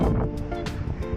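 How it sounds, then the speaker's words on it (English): Strong wind gusts across the microphone in a forestry area, a loud rough rumble that surges and buffets throughout the short stretch. "It's so windy right now."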